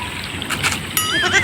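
A goat bleats near the microphone, a short wavering cry rising at the end, preceded by brief rustling and a splash-like noise.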